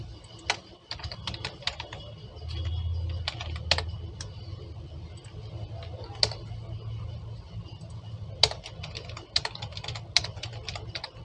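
Someone types JavaScript code on a computer keyboard. Quick bursts of close, clicky keystrokes sit over a low background hum, with brief pauses between runs.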